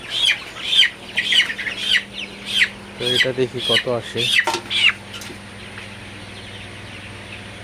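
Thirty-two-day-old Sonali super hybrid chicks cluck and squawk in a quick run of about ten sharp, close calls as they are caught, with someone talking over part of it.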